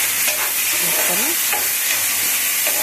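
Blended tomato masala sizzles loudly in a frying pan over a medium flame while a spoon stirs it, with a steady close frying hiss and a brief spoken word.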